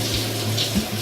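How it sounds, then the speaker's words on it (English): Tap water runs steadily while hair is wet on a loc wash day, a soft continuous hiss and patter close by with no one speaking. "So the first thing that I do is wet my hair."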